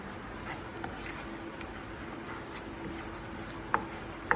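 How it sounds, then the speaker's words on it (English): Sage, garlic and hazelnuts frying in butter in a pan, giving a steady soft sizzle with a few sharp pops near the end and no voice over it. "Just want to fry that out a little bit more. As you can see, my garlic, my hazelnuts are also toasting in the butter."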